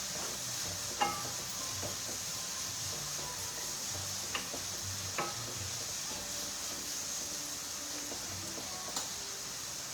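Spiced food stirred in a pan during a live cooking show, a soft steady sizzle with occasional spoon clicks and scrapes against the pan, close and fairly quiet.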